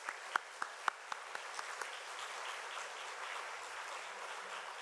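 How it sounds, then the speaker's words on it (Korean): A church congregation at an ordination and installation service claps for newly ordained officers, starting with a few sharp, spaced hand claps and then merging into soft, distant, sustained applause. "우리 임직자들을 위해서 다시 한번 큰 박수로 축하해 주시면 감사하겠습니다"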